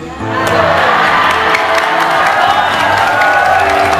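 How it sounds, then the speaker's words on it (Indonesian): A crowd at an Islamic sermon claps and cheers loudly, a sustained roar of voices and shouts over continuous clapping. "Kau tepuk tangan"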